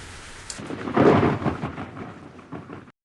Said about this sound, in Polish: Tak naprawdę to będzie dziś ogromna burza z piorunami